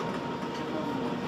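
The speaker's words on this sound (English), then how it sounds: "But there's hardly anyone on this train." A nearly empty German passenger train runs along, heard from inside the car as a steady, even rumble and rolling noise with no voices.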